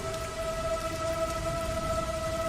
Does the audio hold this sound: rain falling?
yes